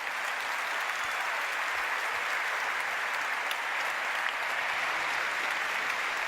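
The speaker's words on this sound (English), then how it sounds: "let's have a round of applause for Sophia and Albert Einstein" An audience applauds for the Sophia robot and an Albert Einstein robot at a tech conference, steady dense clapping filling the hall for several seconds with no one speaking.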